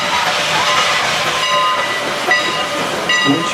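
A locomotive passes at the Strasburg Railroad during a Civil War Days event, loud and close, with a steady hiss of steam and metallic rumble and a few ringing tones, and no talk.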